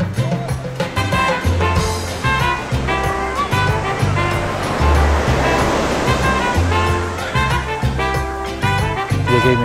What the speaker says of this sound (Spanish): Además, está el mar, mira.